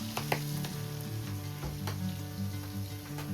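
Shivda fish frying in hot, splattering oil, giving a steady close sizzle broken by frequent sharp crackles and pops.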